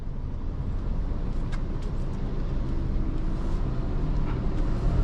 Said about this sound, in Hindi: फिर से आगे से फिर से ट्रक आ रहा है